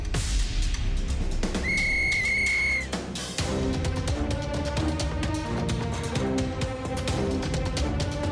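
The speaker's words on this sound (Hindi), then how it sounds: "सीटी बजाते ही रेस शुरू हो जाएगी।" A whistle starts a race in a Chhota Bheem cartoon, one sustained high shrill blast lasting about a second, followed by a busy, loud musical score.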